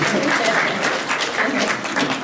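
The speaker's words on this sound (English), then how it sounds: "let's give them a round of applause for being our actors" Conference audience at a BCC marriage event gives a steady round of applause for the couple who acted, dense clapping held at an even level throughout the short stretch.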